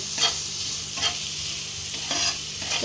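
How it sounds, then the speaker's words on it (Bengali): Onion, ginger and garlic fry in a pan for dalia pulao, making a continuous close hiss with a few soft stirring strokes rising through it at regular intervals. "এইভাবে একটু ভেজে নেব"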